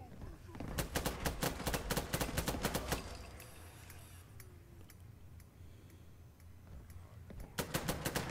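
IMI Galil rifle fired in Fallout 4 at super mutants: rapid automatic bursts of sharp, loud gunshots, a long burst, then a pause with ambient game noise, then another short burst at the end.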